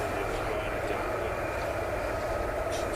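Military aircraft fly at RAF Lakenheath as a continuous, broad jet roar with no breaks, with faint talk underneath.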